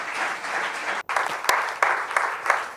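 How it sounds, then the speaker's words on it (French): An audience applauds the team behind the ARTIS social inclusion project at a cultural event, a dense, steady round of clapping from a crowd with a brief dip partway through. "Un applaudissement vraiment fort pour cette équipe."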